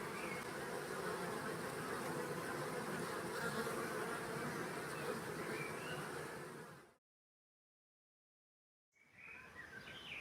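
A stray honeybee swarm caught in a trap buzzes as a dense, steady drone, fairly faint, for about seven seconds, then cuts to silence before the buzzing resumes with a few bird chirps.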